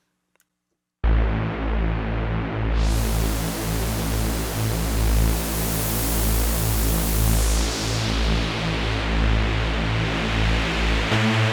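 Noise from a Zebra2 software synth runs through a 24 dB low-pass filter. It starts abruptly after a second of silence as a steady hiss whose brightness opens up, then sweeps back down to a duller rush before cutting off.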